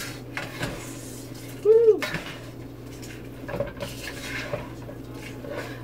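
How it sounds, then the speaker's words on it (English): Squash and sausage filling is tossed in a baking dish, making a brief clatter of utensil against the dish amid light kitchen noise, with a cheerful voice nearby. "Toss to combine"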